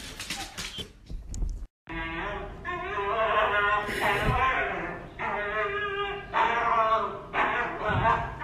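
A Siberian husky gives a series of drawn-out, whiny barking vocalizations up close, loud and repeated, with a brief pause after the first couple of seconds.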